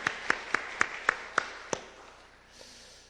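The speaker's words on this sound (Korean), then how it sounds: "기억하게 하신 하나님, 암송하게 하신 하나님께 감사의 박수" Congregation clapping during a Sunday morning worship service in a Korean church, six or seven spaced, sharp claps in a slow rhythm that then stop, leaving faint room tone in the sanctuary.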